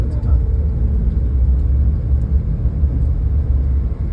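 A car's engine drones with a low, steady rumble during a driving lesson as the learner gives it throttle on a climb, and a voice speaks quietly over it.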